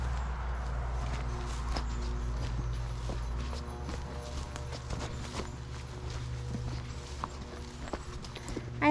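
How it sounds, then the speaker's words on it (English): Horse hooves clip-clop nearby on a rainy day at a wooded cabin in the Poconos, a steady run of light knocks over a constant low rumble of background noise. "Is there a horse running around here?"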